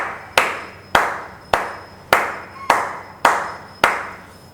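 Seven sharp, evenly spaced claps ring out one at a time, each with a short echoing decay, fairly close and alone without voices.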